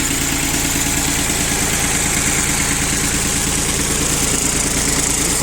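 An all-wheel-drive utility tractor with a rotary tiller idles steadily up close, a low rumbling chug with a constant hum and vibration, no voices.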